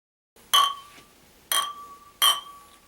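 Beer glasses clinking in a toast, three sharp, bright glass chinks in quick succession at close range, each ringing briefly before fading, with no talk over them.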